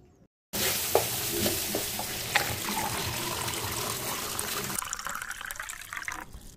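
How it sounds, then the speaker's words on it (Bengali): Cut mango pieces drop into a pan of water on a gas stove, with splashing, watery stirring and a steady hiss, close and continuous with no talk. "গ্যাসে একটা কড়াই বসিয়ে দিয়েছি, এবার এতে আমি এই কেটে রাখা আমগুলোকে দিয়ে দেব।"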